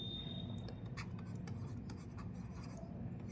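A pen scratching across paper during a class 8 maths lesson, with short, irregular strokes heard close, over a steady low room hum.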